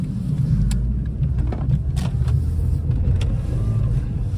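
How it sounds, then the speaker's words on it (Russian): A Toyota Auris E150 with an automatic gearbox that shifts late is driven along, its engine and road noise a steady low rumble from inside the car, with faint clicks and no clearly audible gear change. "Коробка чуть затягивает передачи, с опозданием переключает."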